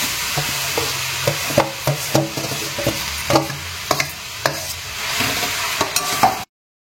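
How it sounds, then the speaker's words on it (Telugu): Grated mango frying in hot oil for a sweet jaggery mango pickle, stirred with a utensil that scrapes and clicks against the pan in an irregular rhythm over a steady close sizzle, with no talking. "దీనిలో ఈ మామిడి తురుము వేసుకుని కొద్దిగా వేడెక్కనివ్వాలన్నమాట"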